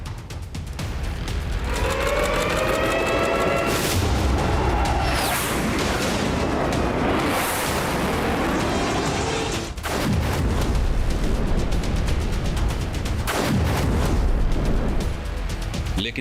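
Explosions and gunfire from Hezbollah attacks on Israeli Merkava tanks and military positions: loud, dense bursts and booms run continuously with little letup, sharp blasts cutting through near the middle and toward the end.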